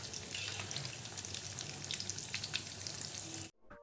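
Egg chops (egg devils) frying in hot oil, a dense, steady crackling sizzle heard up close that cuts off abruptly near the end, leaving only faint kitchen noise.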